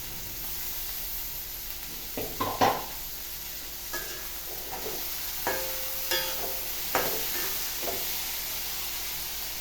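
Food sizzles steadily in a hot pan, with scattered clinks and scrapes of a utensil stirring now and then.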